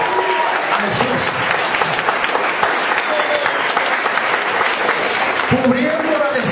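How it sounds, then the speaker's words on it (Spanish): A church congregation gives loud, sustained applause, dense clapping with cheers and shouted voices mixed in, close and continuous throughout. "Vamos a brindar un fuerte aplauso a Jesús"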